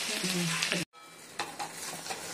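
Goat brain frying and being stirred in a pan, a loud continuous sizzle with scraping strokes of the spatula, briefly cut off mid-way, then resuming with sharper stirring scrapes.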